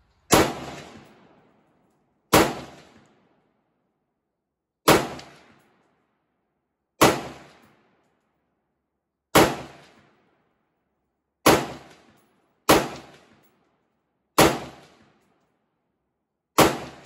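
AR-15 rifle gunshots from a budget Palmetto State Armory and Bear Creek Arsenal build ring out as nine sharp, loud cracks at uneven intervals, each trailing off into silence, with no talking.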